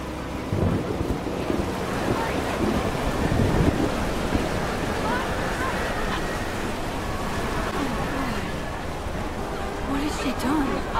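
A thunderstorm in the Life is Strange Double Exposure video game brings rolling thunder, heavy rain, wind and crashing waves in a dense, continuous roar, with voices speaking over it.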